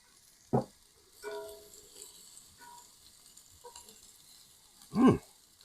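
Onions sizzle in a skillet as a low, steady fry in the background. Two louder knocks or pops stand out, one at the start and one near the end, and a few softer clatters fall between them, with no talking.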